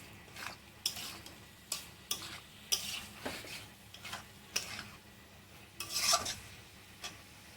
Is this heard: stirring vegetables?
yes